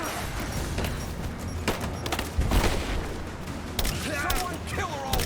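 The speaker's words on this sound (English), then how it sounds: "They're shooting over the left shoulder." Gunfire in the video game Rise of the Tomb Raider: repeated shots and booming bursts in a continuous firefight, loud and dense throughout, with voices shouting over the action.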